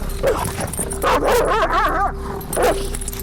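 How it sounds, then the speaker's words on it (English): A dog barks and yips in short bursts, close and loud, with a whining edge between barks. "but Kodak lunged forward, barking furiously."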